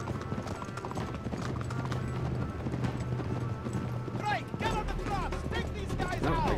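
In the video game Uncharted 3, rapid clip-clop of galloping horse hooves runs throughout alongside a low engine-like drone from a vehicle caravan, with voices chattering over it toward the end.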